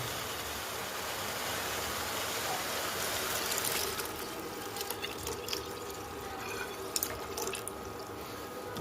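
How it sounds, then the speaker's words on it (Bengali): Milk pours into a pan of melted sugar for carrot halwa, a steady close liquid stream and trickle that runs for several seconds before breaking into scattered drips and clinks, without speech. "এবার আমি এর মধ্যে দুধ যোগ করে দেবো।"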